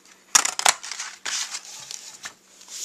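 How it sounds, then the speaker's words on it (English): A 1 3/4 inch circle punch cutting paper, with two sharp crunching clicks close together near the start, then softer rustling and scraping, close and alone. "I'm going to use my 1 3/4 inch circle punch."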